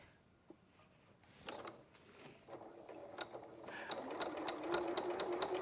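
Sewing machine stitching a quilt, starting with scattered clicks and then building into a steady rapid mechanical whir, close and moderately quiet.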